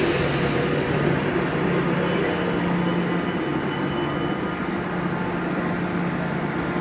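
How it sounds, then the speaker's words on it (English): CrossCountry HST diesel train at Birmingham New Street station, a steady low rumble and engine hum filling the platform, with faint high squeals from the wheels or brakes and no talk. "There's a cross-country HST en route to Penzance."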